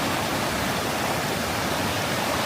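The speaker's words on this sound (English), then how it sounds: "That's some pretty fast moving water right there." Fast-moving river water at an Appalachian Trail crossing in the 100 Mile Wilderness, a loud, steady, broadband rushing roar that fills the whole clip without pause.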